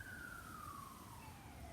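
Faint emergency vehicle sirens wail far off outside an open door, the tone slowly sliding downward over a steady background hiss.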